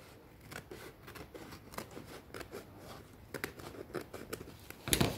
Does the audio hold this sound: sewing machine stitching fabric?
no